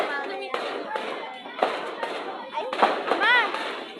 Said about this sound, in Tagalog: may fireworks doon